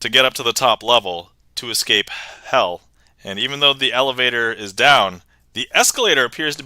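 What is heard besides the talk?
No everyday noise stands out behind the speech.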